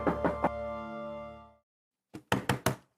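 Knocking on a closed wooden door of a house, first a quick run of three raps under a sustained tone, then after a pause four louder, sharper knocks close by.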